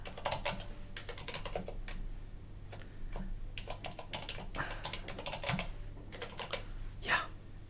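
Keys are tapped on a computer keyboard while entering a password during a Linux system install, a close run of irregular clicks over a low steady background hum.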